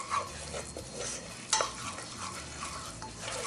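Flour mixture cooking in a pan for a smoked mac 'n' cheese sauce, stirred steadily with a soft continuous sizzle and scraping, plus one sharper clink of the utensil against the pan midway; no talking.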